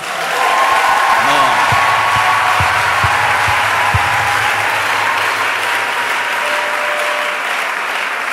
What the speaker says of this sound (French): acclamons nos mamans